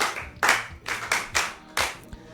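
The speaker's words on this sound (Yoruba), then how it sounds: "Ìdá ẹ pàtẹ́wọ́ fún." An audience claps for a child in short irregular bursts, several sharp hand claps spaced across the moment, fairly close and unaccompanied by speech.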